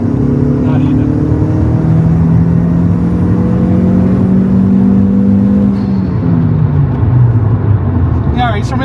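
A tuned Mk1 Audi TT 225 8N turbocharged engine pulls hard at full throttle from about 1500 rpm, making around 12 psi of boost, its drone rising steadily in pitch before easing off near the end, close and loud.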